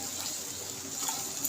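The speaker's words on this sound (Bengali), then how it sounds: "এবার আমি এর মধ্যে জল দিয়ে দেবো, অল্প পরিমাণে জল দেবো" A small amount of water pours into a pan of spiced masala while hilsa fish is being cooked, making a brief hissing, splashy trickle that is close by and lasts under two seconds.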